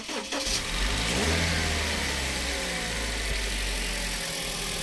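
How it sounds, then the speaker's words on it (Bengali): Toyota Hiace 2000cc VVTi engine starting: a quick crank catches, the revs briefly rise, then it settles into a smooth, steady idle heard close by, no talking. "আমরা গাড়িটা স্টার্ট করে আপনাদেরকে দেখাবো।"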